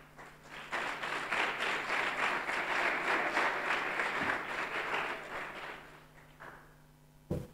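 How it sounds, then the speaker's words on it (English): Audience applause for a presenter at a church talk, steady clapping from a crowd that starts quickly, holds for several seconds, then thins out and fades, with a single sharp tap at the end. "Clap for the presenter"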